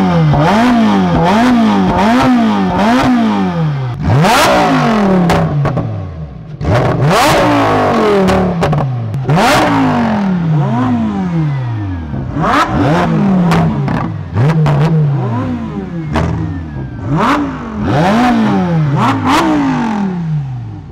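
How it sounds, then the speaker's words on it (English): A Lamborghini Huracan STO with a V10 and a Ferrari 488 Pista with a twin-turbo V8 rev against each other, loud and close, in a repeated series of sharp revs that climb and fall with crackling pops between them. "let's do a rev off."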